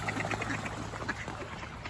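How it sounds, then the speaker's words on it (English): Ducks squabble in a busy flock of young geese and swans, with scattered faint quacks and honks buried in a constant noisy outdoor wash. "Looks like a fight between ducks."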